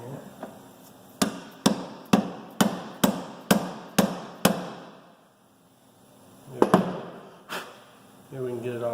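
Sharp metallic hammer blows on a piece of soft aluminum used to drive a part onto a VW O2J gearbox during reassembly, nine evenly spaced close strikes followed by two more after a pause, then brief talk.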